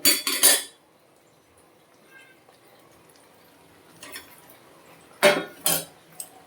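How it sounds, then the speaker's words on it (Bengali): Spoon scraping and clinking against a pan while paneer is stirred into palak curry, with a few sharp bursts at the start and two more near the end, quiet stretches between, no talk. "পনিরগুলো দিয়ে একটু নেড়ে দেবো"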